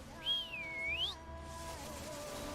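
A single person whistles a short sliding note that dips and rises again, faint and close, followed by quiet background.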